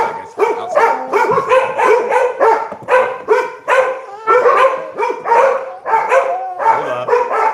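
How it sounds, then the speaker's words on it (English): A pack of nine pit bulls barks excitedly indoors, loud overlapping barks in rapid bursts with yips mixed in, close and continuous throughout, no talking audible over them. "The dogs are going crazy."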